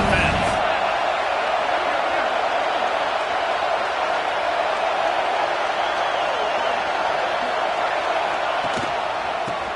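Stadium crowd at a college football game between Tennessee and Penn State roars steadily through the whole stretch, a loud continuous wash of cheering noise with commentary voices over it.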